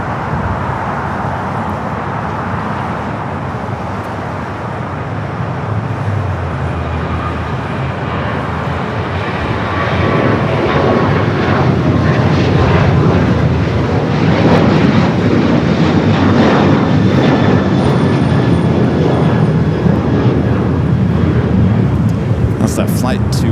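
Jet airliner departing Los Angeles LAX for Las Vegas in the evening, engine rumble building from moderate to louder and holding steady, with voices talking over it.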